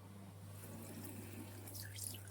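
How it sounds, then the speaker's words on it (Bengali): Tap water runs steadily into a kitchen sink as a cabbage is rinsed under it, a soft continuous splashing with a faint hum beneath and no talk. "বাঁধাকপিটা ভালো করে একটু ধুয়ে নেব।"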